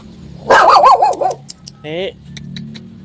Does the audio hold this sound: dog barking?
yes